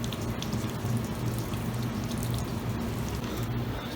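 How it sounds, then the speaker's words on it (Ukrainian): Hot water runs steadily from a tap to rinse old coffee out of a coffee pot, a continuous close splashing hiss with a low hum underneath. "Ми ну, просто включаємо гарячу воду"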